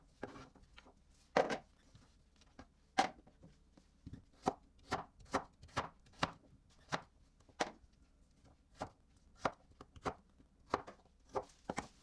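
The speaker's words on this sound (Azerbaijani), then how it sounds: "Bunu da belə doğradım." Pumpkin is chopped for a soup with a knife on a cutting board, a run of about fifteen crisp, close knocks at an irregular, unhurried pace, with no talking.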